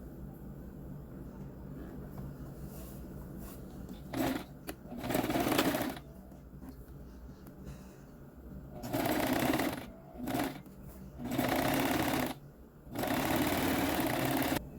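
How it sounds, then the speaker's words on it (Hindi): A sewing machine zig-zag stitches a fabric face mask, running in short whirring bursts of a second or two separated by pauses, close and clear with no talk. "ऐसे स्ट्रेट रखेंगे और इसके ऊपर ज़िग-ज़ैग स्टिच लगाएंगे।"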